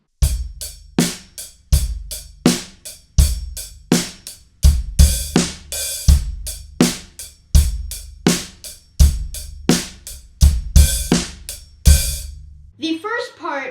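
Drum kit playing a song's beat at a slower tempo, loud close kick and snare hits in a steady pattern with hi-hat openings, ending in a brief noisy tail.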